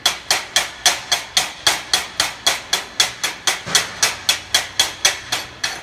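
A steel chipping hammer knocks slag off a fresh stick weld in a shop, striking in a quick, even series of about twenty sharp metallic hits, each one ringing briefly, loud and close.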